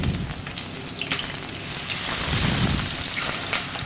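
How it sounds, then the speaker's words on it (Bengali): Bata fish pieces, rubbed with salt and turmeric, frying in very hot oil; a loud, dense, continuous sizzle and crackle fills the whole stretch without speech. "এবার মাছগুলো আমি একে একে করে দিয়ে দেব।"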